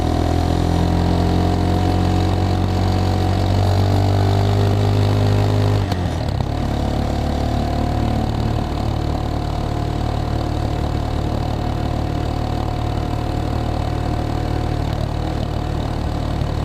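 Geon X Road Light 250 motorcycle engine running loud and close, a steady idle-like drone that shifts in pitch partway through as the bike pulls away and rides on at low speed.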